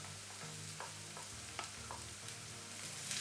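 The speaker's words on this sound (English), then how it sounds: "Then we'll add the mushrooms, the chopped mushrooms, and let it all fry together" Onion and chopped mushrooms fry together in a pan for vegetarian fried noodles, a soft, quiet sizzle with light intermittent scraping from stirring over a low steady hum.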